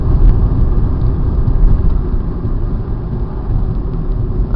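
A steady, heavy low rumble of road and engine noise from inside a moving car fills the clip. It is loud and continuous, with no talk, while a Dodge truck with dual exhaust pipes is nearby.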